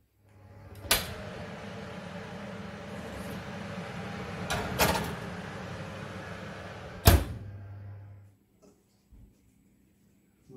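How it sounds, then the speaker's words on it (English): A steak and gravy pie goes into an oven: a fan-like hum runs under sharp door clunks and bangs, ending with a final slam before the hum cuts off and near silence follows. "We'll pop that in the oven now, about 160 for 40 to 45 minutes."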